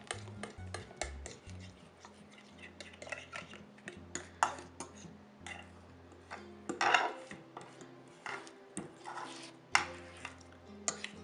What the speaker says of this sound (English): If you find anything hard, then you just soften it and stir it up like this with your fork